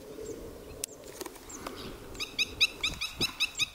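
An airport bird-scaring device broadcasts imitated bird distress calls through a loudspeaker, a run of repeated, evenly spaced harsh cries over steady background noise, loud in the second half.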